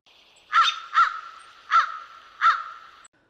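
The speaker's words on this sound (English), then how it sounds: "Crows are very common and numerous from Alaska to Puget Sound." Crows cawing on Vancouver Island, British Columbia: four loud, harsh caws spaced about half a second apart and close by, with no other sounds.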